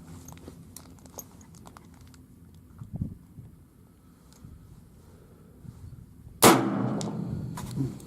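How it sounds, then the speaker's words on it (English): Suppressed Savage MSR-15 Recon rifle firing subsonic ammo: one sharp, loud muffled shot near the end after quiet handling clicks and a softer thump. "Savage MSR-15 Recon with subsonic ammo"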